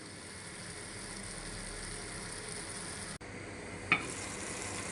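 Hotdogs sizzling steadily in a hot pan for Filipino-style spaghetti, a continuous quiet frying hiss with a brief stir or clatter near the end.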